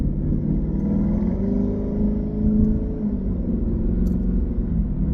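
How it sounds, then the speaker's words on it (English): A warm Lexus IS500 V8 with an Apex'i N1 Extreme exhaust blipped lightly from idle, a deep, close rumble that swells gently and settles, heard alone. "Engine's a little warm now, so I'm going to put a little bit of juice in it"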